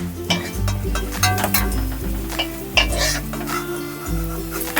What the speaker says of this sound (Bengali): বাকি যে কটা আছে এইভাবে আমি ভেজে নিচ্ছি।